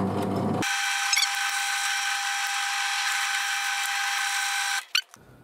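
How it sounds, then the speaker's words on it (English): A power drill bores through metal luggage-rack brackets, a loud sustained whine that starts abruptly, holds steady for about four seconds, then winds down with a clatter at the end. "So it's going to drill out the four brackets."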